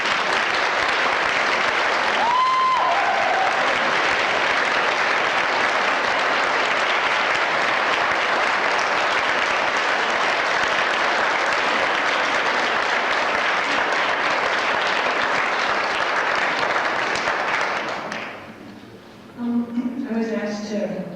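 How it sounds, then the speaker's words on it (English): A long, sustained round of applause from an audience at a welcome gathering rolls steadily for most of the stretch, then fades out as a voice begins speaking at the end. "let's have a round of applause for them"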